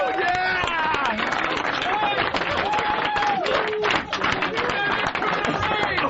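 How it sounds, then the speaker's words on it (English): Loud, continuous applause and clapping fill a radio studio, mixed with crowd hubbub and hearty laughter, while excited voices shout over the din throughout. "A thunderous round of applause."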